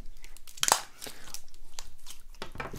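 Soft emerald-green glitter slime tears while being handled, giving close, crunchy crackling and a sharp snap burst, followed by a run of small squelching clicks.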